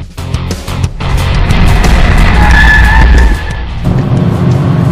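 A Kia Stinger with an 8-speed automatic is driven hard on a race track, its tyres squealing and engine roaring loudly and close for several seconds with no talking.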